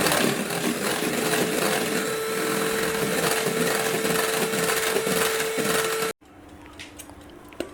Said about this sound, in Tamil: இப்போ ஒரு தடவை பீட் பண்ணிடலாம்.